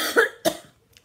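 Two short, sharp coughs close up, one right after the other, then quiet.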